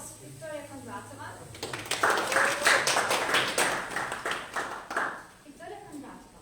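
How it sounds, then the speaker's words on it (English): Audience applause welcoming a speaker at a Toastmasters club table topics speech contest: a room of people clapping for several seconds, moderate and fairly close, with voices talking briefly before and after. "So welcome with a round of applause to Victoria Kondratova."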